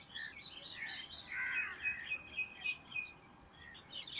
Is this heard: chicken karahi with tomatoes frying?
no